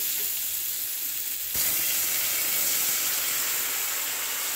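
Water poured into a sizzling pumpkin and potato curry: a steady fry hiss suddenly jumps to a loud, broad steaming roar that holds on, close and alone.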